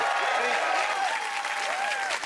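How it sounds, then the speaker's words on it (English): Studio audience applauding at a televised comedy quiz show, a steady dense wash of clapping that holds loud and continuous throughout, with voices mixed faintly into it. "Give her a round of applause."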